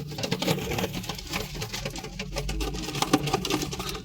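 Pigeon chicks in a nest give soft, close cooing and fluttering patter. The sound is a busy, continuous rustle with occasional brief peeps.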